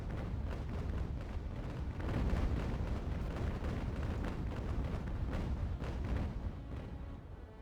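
Sailing ship cannon fire in the naval battle game Ultimate Admiral: Age of Sail, a continuous rumbling barrage of booms and blasts rolling on steadily with no talk.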